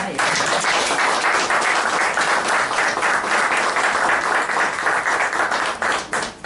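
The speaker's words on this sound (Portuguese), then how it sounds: "Então, salva de palmas para ele." A dense, loud audience applause for Armando Fajardo fills the room continuously for several seconds, many hands clapping at once before tapering slightly at the end.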